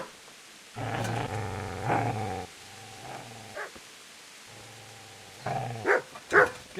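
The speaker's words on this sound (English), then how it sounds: "Get away, you mutt!" A dog growls in long, rumbling stretches, broken by short sharp barks and yips toward the end, close and clear in a Kingdom Come Deliverance game scene, with no speech.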